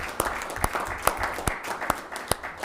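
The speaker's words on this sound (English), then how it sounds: "how about a big round of applause for our teachers, for our staff, for our executive team" Audience applause fills a board of education meeting room, a steady patter of hands with a few sharper individual claps standing out at a moderate distance, no talking over it.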